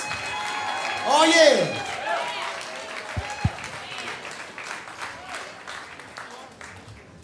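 Audience applause at a holiday soul jam concert, a burst of clapping swelling early then fading under a voice and lingering crowd noise.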